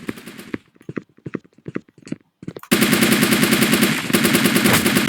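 Gunfire in the blocky shooter video game Blockpost: a few sharp, separate shots, then a loud, sustained automatic burst that runs to the end with only a brief break.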